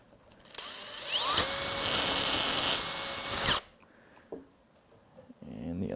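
A power drill revs up and bores steadily into polycarbonate for a couple of seconds with a shrill whine, then winds down, followed by light handling noises.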